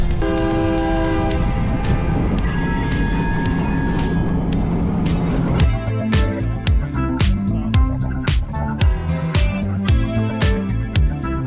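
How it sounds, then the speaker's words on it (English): A train horn sounds close by, then passing railcars set up a loud, rhythmic clatter of wheels, heard while cyclists wait at the crossing. "Even when we're on our bikes, we still have to wait for a train."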